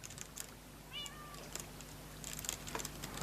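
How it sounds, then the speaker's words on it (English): A cat in the Minecraft video game gives a single short meow, fairly faint, with a few light clicks and taps scattered around it in a quiet room. "That cat's going to keep any creepers away."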